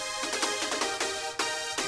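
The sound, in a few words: brass soundfont layer playing the lead melody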